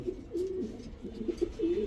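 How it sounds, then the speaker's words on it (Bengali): Large white racer pigeons coo in short, throaty bursts close by at a pigeon farm in Mirpur, Dhaka, repeated phrases with brief pauses between them. "এত বড় বড় কবুতর"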